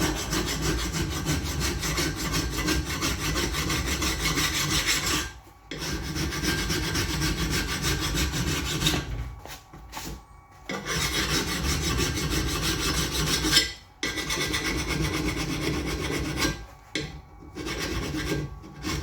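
A hand file rasps steadily along a steel dagger blade in long continuous strokes, loud and close, with a few brief pauses between passes and no talking.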